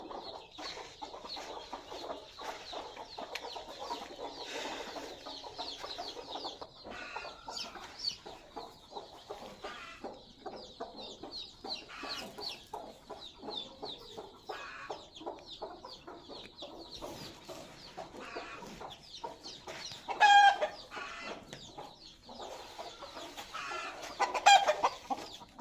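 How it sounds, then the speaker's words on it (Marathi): Chickens clucking steadily around a village farm with a rooster among them, soft, continuous cackles and chatter at moderate distance, with a couple of louder calls near the end. "हा कोंबडा आहे बघा"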